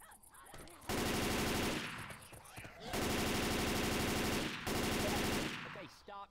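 Sustained bursts of automatic gunfire in Left 4 Dead 2, in the Dead Center campaign, come in three long loud volleys separated by brief pauses, with a faint voice underneath.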